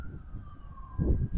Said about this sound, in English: dang, you hear them sirens.